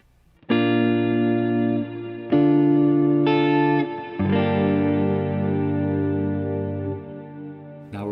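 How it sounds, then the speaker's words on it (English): Sustained chords drenched in a Strymon Cloudburst ambient reverb pedal with its ensemble effect off, several held chords changing in turn, each swelling into a long smooth wash that rings on and overlaps the next. "So here's the reverb with the ensemble off."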